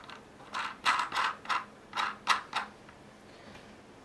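Metal bolt being turned into a motorcycle helmet camera mount, about eight short ratcheting clicks and scrapes in an uneven rhythm, close and fairly quiet, with no talking.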